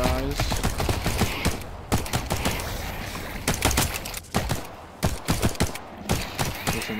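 Pistol gunfire in a video game, with repeated sharp shots spaced in bursts over a busy background of game noise and faint mechanical clicks; some voice is mixed in underneath.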